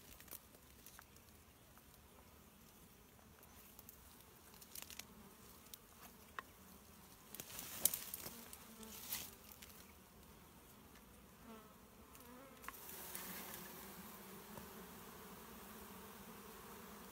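A steady, low buzzing hum of many honey bees close by, as bees are lowered into a hive, with occasional rustles and faint knocks over the drone.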